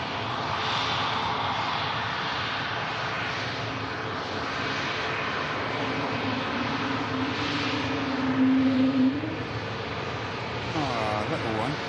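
A jet airliner's engine roars in a steady, loud, sustained drone at Manchester Airport, with indistinct voices of onlookers nearby.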